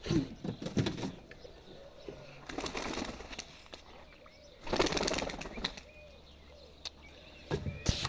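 Newly released pet birds flap their wings in several short bursts near a cage, with quieter gaps and faint cooing between them.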